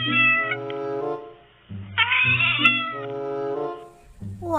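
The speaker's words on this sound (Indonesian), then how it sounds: "Ini adalah kucing." A cat meows repeatedly, a series of drawn-out, wavering cries close to the listener, with short pauses between calls and one higher, more strained yowl in the middle.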